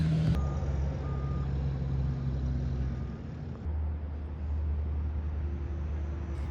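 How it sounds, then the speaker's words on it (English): Zoom boom telehandler working near loud semi trucks at a campground in Sandpoint, Idaho: a low, continuous diesel engine rumble with a steady reversing beep tone, close and loud, without talk. "Every morning we're getting waking up by those loud semi trucks, as well as there's a Zoom boom here doing some work."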